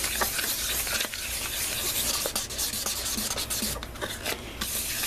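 Headlight lens being sanded by hand with 800 grit sandpaper in a circular pattern, a steady close rubbing and scratching hiss that continues without pause throughout.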